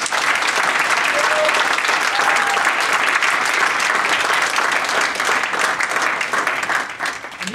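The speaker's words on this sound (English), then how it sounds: "one round of applause, please, for the bridegroom" Wedding guests applaud the bridegroom during the speeches, a dense, loud, sustained round of clapping from a full room that holds steady for several seconds before starting to fade at the end.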